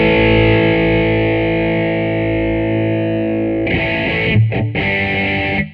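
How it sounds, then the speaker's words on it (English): Electric guitar runs through a Boss Blues Driver feeding a JHS Angry Charlie overdrive, first a long sustained distorted chord ringing out, then a few choppy strummed chords near the end. "which is the blues driver into the Angry Charlie,"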